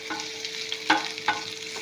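Ginger and garlic frying in a pan for tomato chutney, a steady soft sizzle with a few sharper stirring clinks and scrapes near the middle and end.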